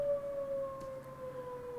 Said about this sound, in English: There's a tornado siren going off in my ears.